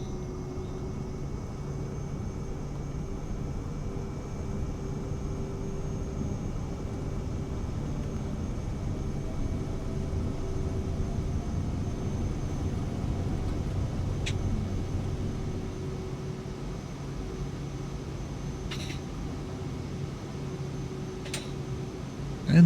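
Sustained drone of a small airplane engine throttling up for takeoff, a steady hum with a low tonal pitch and a slight swell in the middle.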